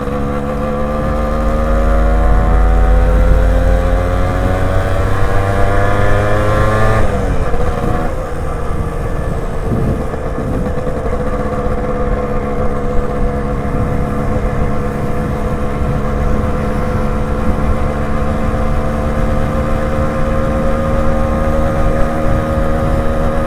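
A Suzuki Shogun motorcycle engine drones steadily while being ridden on an open road, loud and continuous, with a rise in pitch and a shift around the middle as the rider changes speed.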